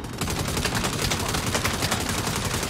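Constant, dense automatic gunfire from the video game Saints Row, loud and unbroken, with rapid shots packed so tightly they blend into one continuous rattling barrage.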